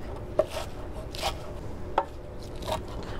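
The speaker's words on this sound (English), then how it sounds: "We're just gonna roughly chop them." Knife roughly chopping a big bunch of baby spinach on a cutting board, a few distinct soft knife strikes spaced unevenly over a quiet kitchen background, close and fairly faint, with no talking.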